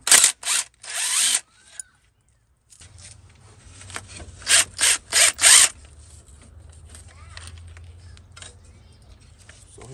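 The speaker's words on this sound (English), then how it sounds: "Let's remove this tensioner, guys." Wrench and metal handling sounds while removing the timing belt tensioner on a Ford 2.3 engine: several short, close ratcheting bursts, a pause, then more quick clicks and scrapes over a faint low hum.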